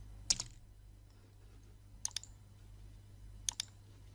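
Quiet key clicks on a computer keyboard enter an AutoCAD command: three short clusters of two or three keystrokes each, separated by pauses, over a faint room hiss.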